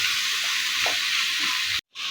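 Country chicken curry with onions and tomatoes sizzles loudly in a hot pan, a steady dense frying hiss with faint stirring scrapes, cutting off abruptly near the end before resuming.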